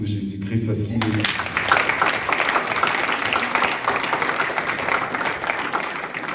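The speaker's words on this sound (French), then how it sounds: "Je veux qu'on applaudisse pour Jésus-Christ" After a brief spoken line, a youth rally crowd at a church gathering breaks into sustained, dense applause that continues evenly for several seconds, with some voices in the mix.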